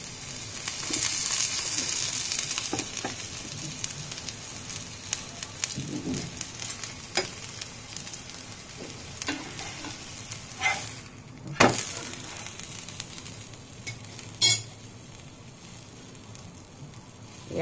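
An onion uttapam fries in oil on a griddle, a continuous hissing sizzle that runs throughout, with a few sharp spatula clicks and scrapes on the hot surface and no speech.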